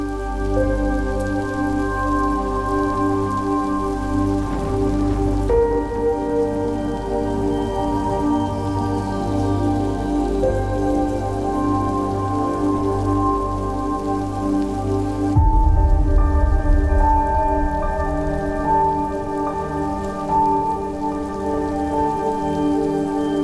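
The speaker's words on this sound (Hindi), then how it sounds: "बस ये बारिश बाहर से खत्म हो जाए।" Steady rain pours outside, a dense continuous wash of falling water heard throughout under layered sustained music, with a heavier low rumble swelling in partway through.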